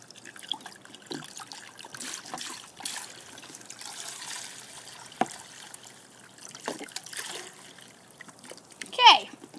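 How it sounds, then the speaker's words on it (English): Vinegar pours into a bowl in a soft, faint trickle and splatter, quiet and intermittent under low background noise, ending in a brief louder splash. "I'm going to take the vinegar and I'm going to pour the vinegar"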